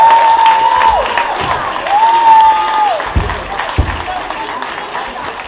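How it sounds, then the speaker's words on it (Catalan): Audience applause and cheering at a children's after-school theatre show of The Lion King in La Cellera de Ter, a dense steady wash of crowd noise with a clear sustained tone cutting through twice. "Sisplau, un aplaudiment ben fort."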